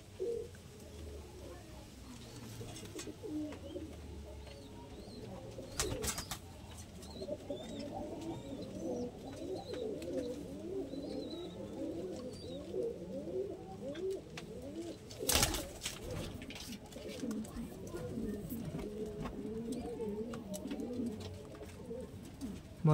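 Old-generation Giribaj pigeons coo in repeated soft, throaty bursts close by, layered continuously over a low ambient hum, with a couple of sharp knocks and some background talking.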